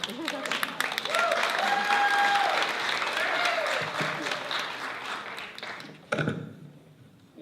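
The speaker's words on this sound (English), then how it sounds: "feel free to applaud" An audience applauds at a Wisconsin governor candidates forum, a dense sustained patter of many hands clapping that swells early, holds for several seconds, then tapers off near the end, with a brief voice mixed in.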